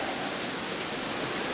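Heavy rain on a windy day, blowing in onto a porch swing, falls as a steady, dense broadband hiss that stays close and even throughout, with no voices.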